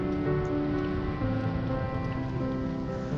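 The Bhagini stream, a fast Himalayan mountain torrent in the Dronagiri valley, rushes below a narrow trail in a steady, close, hissing wash of water with no voices over it.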